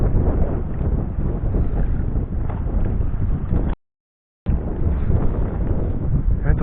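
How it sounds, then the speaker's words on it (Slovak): Strong wind buffets the microphone beside a lake during a catfish fishing trip, a steady loud roaring rumble that continues with a brief dropout partway through, with no talking. "Fúka nám, silno nám fúka."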